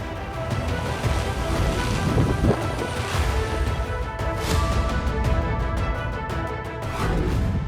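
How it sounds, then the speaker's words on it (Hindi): Heavy monsoon downpour in Maharashtra and Gujarat, a dense, loud, continuous roar of rain with a deep rumbling undertone, steady throughout and without any voices. "इतनी तेज बारिश हुई कि जड़ से उखड़ गए पेड़।"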